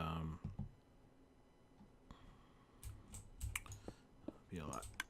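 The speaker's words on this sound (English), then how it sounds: "it'll be a lot nicer not to have to hear that constant clicking" Faint, repeated clicking from a Minecraft smelter setup ticks away quietly in irregular bursts, with a soft breathy murmur now and then.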